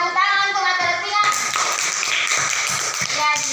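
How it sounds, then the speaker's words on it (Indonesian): Children clap together in a primary classroom during a lesson, a short flurry of hand claps starting after a teacher's voice and continuing for a few seconds. "tepuk tangan untuk mata latihan"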